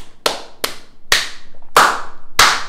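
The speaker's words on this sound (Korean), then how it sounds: "진짜 이거는 박수 존나 세게 쳐줘야 된다" Five sharp, loud hand claps spaced roughly half a second apart, each ringing out briefly, with no voices in between.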